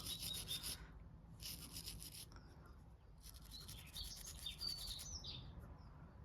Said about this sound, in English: just keep scrubbing until you've scrubbed the whole thing